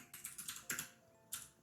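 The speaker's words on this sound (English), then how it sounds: "There's some crazy typing going on." Rapid bursts of computer keyboard typing during a live multiplayer game session, a quick run of keystrokes followed by a couple of separate louder clacks, fairly close and with no voices.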